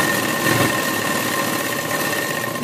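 A sewing machine runs continuously while stitching a burqa, giving a steady, close mechanical whirring hum with a fine rapid vibration throughout and no pauses.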